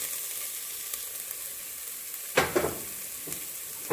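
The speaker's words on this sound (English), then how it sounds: "So now that my onion has been cooking for a couple of minutes, I'm going to add my potato." Diced potato tumbles into a pot of onion cooking for soup, setting off a soft sizzle with a few crisp bursts of frying noise and light clatter near the end, heard alone without talk.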